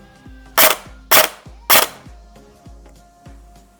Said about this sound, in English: And now let's measure the power of the gun.